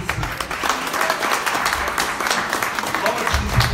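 Dense clapping from an audience, continuous and fairly loud throughout the short stretch, with no speech over it.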